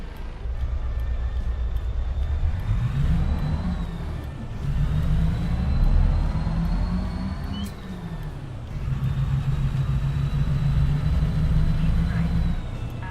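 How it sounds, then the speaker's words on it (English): A simulated truck engine in American Truck Simulator droning low and loud, rising and falling in pitch through gear changes, with a voice talking over it. "let's up the volume a bit on the engine here"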